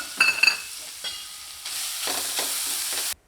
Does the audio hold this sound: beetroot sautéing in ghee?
yes